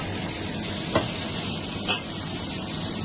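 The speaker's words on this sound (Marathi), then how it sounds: "आमचा पनीर फ्राय होतं, एवढा झालेला आहे. एवढा चालू आहे फ्राय करायचं काम." Paneer frying in a pan, a steady broadband sizzle and hiss with two brief sharp pops or stirring knocks, no talking.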